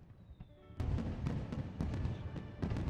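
Fireworks in the video game Code: Realize burst in a rapid series of sharp cracks and booms, loud and close after a brief quiet whistle, with no voices.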